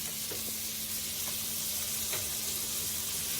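Corn cheese sizzles steadily in a hot pan while being stirred, a continuous close frying hiss with faint scraping clicks from the utensil.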